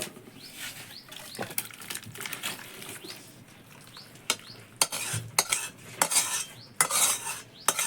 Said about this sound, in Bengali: এবারে আমি ভালো করে নেড়ে চেড়ে নামিয়ে দিচ্ছি